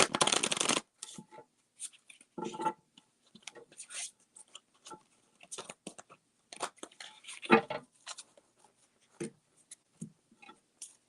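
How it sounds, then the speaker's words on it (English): Tarot cards riffle and slap in short, scattered bursts with quiet gaps between, close and soft, and no one speaks. "Let me shuffle these cards real quick"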